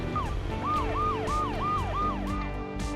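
Ambulance siren wailing in a steady repeating rise-and-fall pattern, loud and close, with a low traffic rumble underneath.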